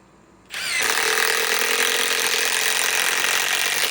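A Milwaukee M12 Fuel power tool on a small 2 amp battery whirs up abruptly after a quiet start, then runs at a steady, loud, high-pitched whine for several seconds with no talking.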